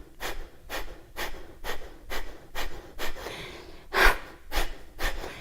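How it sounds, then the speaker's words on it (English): Forceful exhalations during a pranayama breathing exercise in a yoga session, about ten sharp, evenly spaced breaths pushed out through the nose in a steady rhythm, close and clear with short quiet gaps between. "press the elbows back and forcefully exhale"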